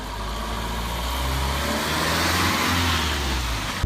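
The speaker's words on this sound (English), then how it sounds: "Will Shires took it for a spin on SAIC's test track." An LDV V80 van, a re-engineered SAIC Maxus, drives on a test track, its mid-range engine droning steadily and swelling slightly as it pulls, heard close and loud inside the cabin without talk.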